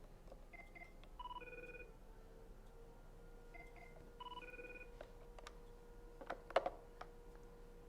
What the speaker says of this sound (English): Let's see, I think we got a phone call.